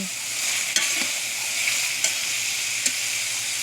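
Patola and vermicelli sautéing in a pan, a steady loud sizzle with a few sharp ladle taps against the pan, close and continuous with no talk.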